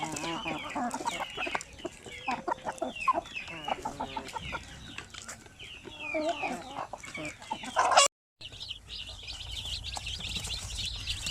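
Chickens cluck repeatedly at close range alongside the thin peeping of newly hatched chicks, the calls overlapping throughout with a brief dropout near the end.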